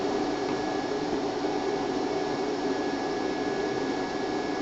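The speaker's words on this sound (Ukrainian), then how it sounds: "Вентилятори працюють постійно на максимальних обертах." DATOUBOSS ZGR-03 48/220V 2200W inverter cooling fans spinning at full speed, a loud, constant whooshing drone with a steady high whine, unbroken from start to finish.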